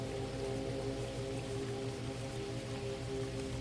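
Steady rain falls without pause, an even, continuous hiss with a faint low hum beneath, unchanging in loudness and with no voices.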